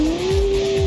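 A newly bought car in Cyberpunk 2077 lets out a loud engine drone with a rising tone, joined by tire squeal, heard up close and alone for under a second.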